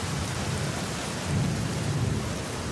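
Thunder rolls with steady rain pouring on the ground in the horror adventure game The Black Mirror, a deep rumble swelling midway through under the constant hiss of the downpour.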